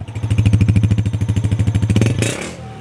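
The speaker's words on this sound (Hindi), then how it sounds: "आला साउंड, दबंग साउंड जी," A used Honda 125 motorcycle engine idles close by with a steady, even thumping beat, then gives a short rev near the end.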